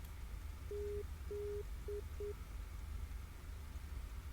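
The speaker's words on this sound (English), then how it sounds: "Is the Papa Delta Zulu Morse code?" A navigation beacon's Morse code identifier beeps as a faint, steady tone in two long dashes and two short dots, heard over the constant engine drone and hiss inside a Cessna 337 cockpit.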